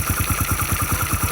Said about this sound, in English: This is how the engine is working.